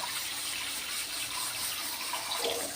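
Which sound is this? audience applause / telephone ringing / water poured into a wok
water poured into a wok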